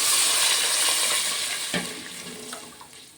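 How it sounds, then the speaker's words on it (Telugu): Water splashes and pours steadily into a pot of rice for chicken bagara rice, loud at first then gradually quieter, with a brief clunk midway. "ఇప్పుడు నేను ఇందులో వాటర్ వేస్తున్నాను"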